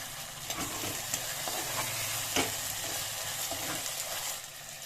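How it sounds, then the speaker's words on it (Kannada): Green chillies frying in a pan for a chana dal tadka, a continuous crackling sizzle broken by scraping stirs, close and fairly loud throughout. "ಹಾಕೊಂಡು ನೀಟಾಗಿ ಫ್ರೈ ಮಾಡ್ತೀವಿ. ಹಸಿರು ಮೆಣಸಿನ್ಕಾಯಿ"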